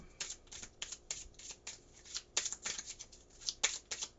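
Tarot cards riffled and shuffled close up in a quiet room, a rapid run of crisp papery flutters and snaps repeating across a few seconds.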